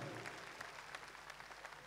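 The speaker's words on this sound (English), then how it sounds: "Round of applause for that, ladies and gentlemen." Audience at an Amazon Prime Video event for The Forgotten Army claps in a short, faint burst of scattered applause with distinct individual claps, heard from a distance.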